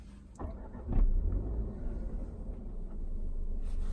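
A Jaguar XE gasoline engine turns over and settles into a low, steady idle, a soft continuous purring rumble close by.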